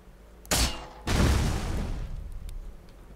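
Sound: gunfire in a video game

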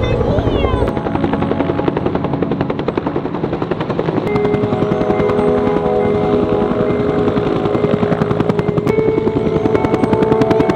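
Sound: helicopter flying during forest fire rescue

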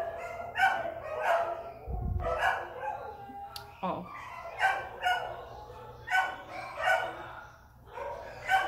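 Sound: dogs barking

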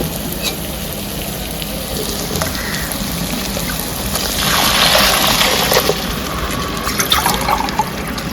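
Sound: pouring water into pot for pulao

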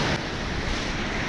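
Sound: waves breaking on a cold, icy shore

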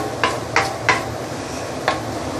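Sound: curry paste sauteing in a pan over low-medium heat

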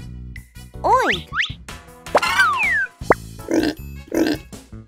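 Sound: pig oinking

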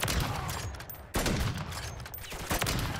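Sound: gunfire in Call of Duty Modern Warfare Zombies video game

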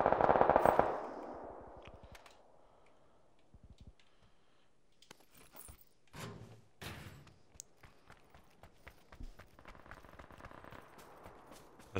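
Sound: gunfire in an Xbox video game

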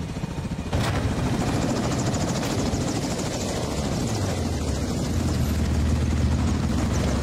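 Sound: helicopter in a video game

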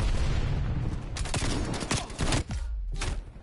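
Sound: shotgun gunfire in the video game Call of Duty Cold War

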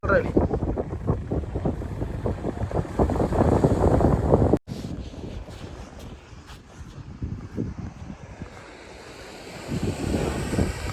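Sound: strong coastal wind

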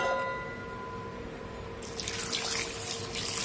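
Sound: water being poured into a pot

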